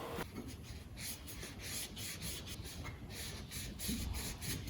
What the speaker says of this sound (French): je vais en profiter pour mettre un petit coup de propre sur le bras